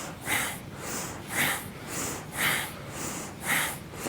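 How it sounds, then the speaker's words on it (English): Rhythmic breathing during kundalini yoga, with strong nasal inhales and exhales alternating at about one per second, close and clear and with no talk over them. "Inhale up, exhale down."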